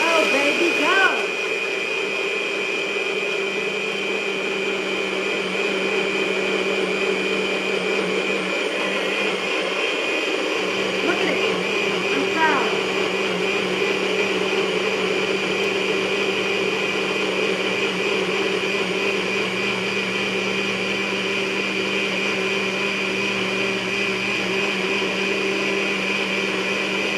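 A blender crushing pellet ice into a peanut butter and jelly protein shake, a loud, steady motor whine and grinding roar that starts abruptly and runs unbroken, with a voice briefly audible at the start.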